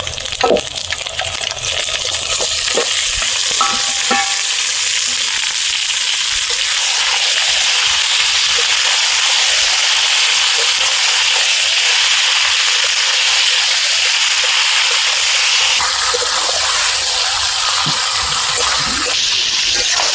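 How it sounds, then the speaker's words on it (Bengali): Marinated chicken sizzles loudly in hot oil with ginger and garlic, a dense, continuous frying hiss close up with occasional stirring clatters and brief lulls. "আদা রসুন দিয়ে 2 মিনিট ভাজার পর প্রথমে ম্যারিনেট করা মাংস দিয়ে দেব।"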